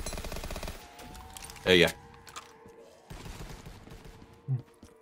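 An M1 Garand fires in a Call of Duty Zombies mod. One loud, sharp shot is followed later by a fainter one, over quiet game ambience, and a player speaks briefly.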